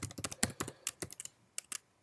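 Quick bursts of typing on a computer keyboard while naming a scene in a Unity3D project, clattering keystrokes in uneven clusters, close and clear with no voices.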